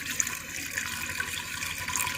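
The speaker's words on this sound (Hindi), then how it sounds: "अभी हमने आधा गिलास पानी डालना है अंदर, तो वो पानी डालते हैं" Half a glass of water is poured into a cooking pot on a stove to begin a sugar syrup, producing a continuous close splashing trickle that runs steadily throughout, with no voices.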